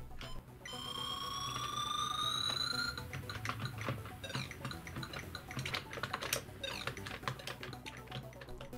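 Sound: typing on replacement ZX Spectrum keyboard keys

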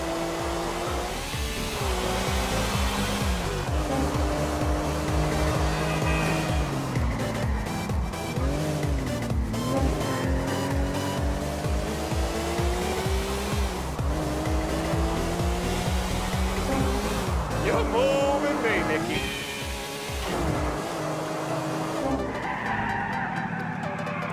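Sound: car driving with tire squeals in Grand Theft Auto IV video game

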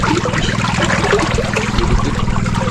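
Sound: water flowing in a fishpond during harvest

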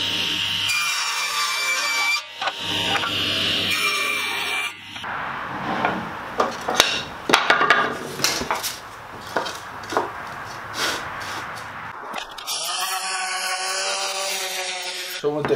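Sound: table saw cutting pallet wood boards with fence

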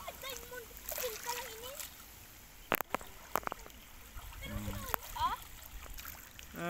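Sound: child splashing while bathing in clear water

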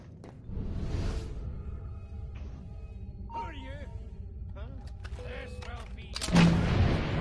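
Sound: mortar bomb explosions in Assassin's Creed Unity video game

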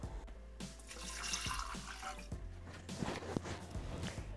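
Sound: water poured into Thermomix bowl

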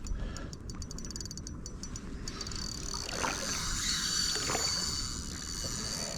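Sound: fishing reel drag clicking while fighting a catfish

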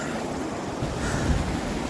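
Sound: small mountain waterfall on Erciyes Koç Dağı

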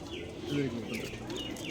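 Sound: silver Simi pigeons cooing on a rooftop

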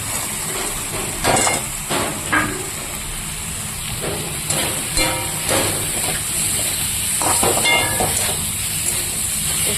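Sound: vegetables with fried soya chunks sizzling in a pan

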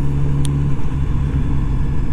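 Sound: motorcycle engine while riding

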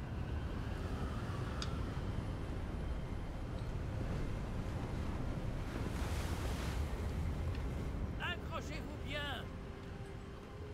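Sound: wind and waves on the coast in Hogwarts Legacy video game

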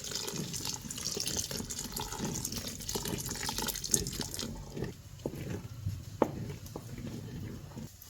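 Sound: pouring home buffalo milk into wheat kheer

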